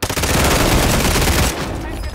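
Rapid gunfire in Call of Duty Warzone at Fortune's Keep, a loud, dense burst of overlapping shots lasting about a second and a half before fading into softer scattered noise.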